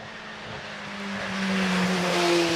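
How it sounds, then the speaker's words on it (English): A 1971 Chevron B19 race car launches off the line at a speed hill climb, its engine note rising steadily in pitch and loudness as it pulls away, alone without talk. "the Chevron B19, a car that was owned by the late Joe Seifert in 1971"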